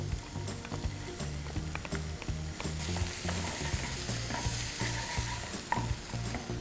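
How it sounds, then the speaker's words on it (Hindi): Chopped onions sautéing with garlic and ginger in a pan for Punjabi chole, a dense bright sizzle with frequent stirring scrapes over a low rhythmic background hum, with nobody talking. "इसके अंदर हम डालेंगे चॉप्ड अनियंस"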